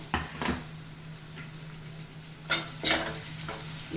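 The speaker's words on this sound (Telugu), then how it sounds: "మళ్ళీ బాగా వేగనిద్దాము." Prawns and shallots fry in a pan with a steady low sizzle, broken by a few louder scraping stirs, the sharpest two near the end.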